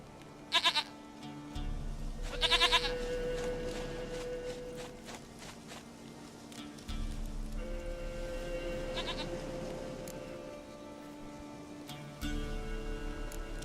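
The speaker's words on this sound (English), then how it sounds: "Goat of mine, dearest, sweetest goat." Goat bleats from The Witcher 3, a few short wavering cries spaced apart over a low steady game ambience with soft footsteps, fairly quiet overall.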